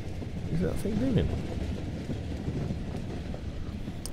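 A train rolls past in the PUBG Vikendi snow map, a low rumbling clatter under wind noise, moderately loud then easing off, with no one speaking.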